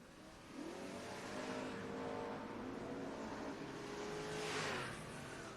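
Drag race cars launch side by side in a door-car bracket race, engines revving hard with rising harmonic tones that climb and sweep as they pull away, a loud steady roar with a brief high surge near the end.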